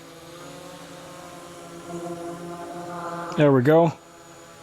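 A DJI Air 3S drone in flight gives a steady multi-tone propeller buzz that holds throughout, rising briefly in pitch and loudness near the end, with someone speaking over it.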